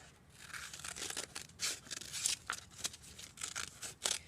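Paper being cut with scissors to shape a small cactus for a classroom landscape craft, a steady run of close crisp snips and rustling crinkles with no talk.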